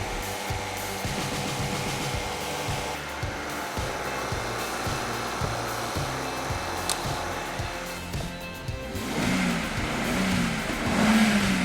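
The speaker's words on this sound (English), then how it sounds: "rev up the car a few times to clear everything out" A BMW 535i E60 engine runs steadily and revs repeatedly in rhythmic surges after intake valve carbon cleaning, fairly loud and close, building toward the end.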